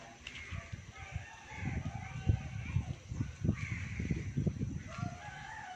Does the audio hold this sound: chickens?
yes